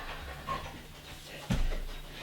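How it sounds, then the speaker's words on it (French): A dog pants in short quick breaths close by, faint and low in level, with a brief louder burst of breathing or movement near the end. "Je vais promener le chien."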